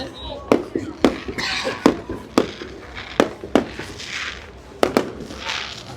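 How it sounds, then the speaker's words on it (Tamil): Fireworks and firecrackers go off at New Year celebrations in Pattaya, with sharp, loud bangs at irregular intervals and crackling bursts between them, while someone talks throughout. "பட்டாசு போடுவதை தொடங்கி விட்டார்கள்"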